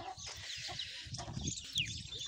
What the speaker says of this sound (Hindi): मुर्गियों का दड़बा देखिए आप,